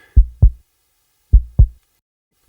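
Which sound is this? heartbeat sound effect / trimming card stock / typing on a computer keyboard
heartbeat sound effect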